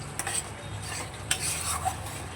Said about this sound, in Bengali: এবার বেগুনগুলোকে ঢেলে দেবো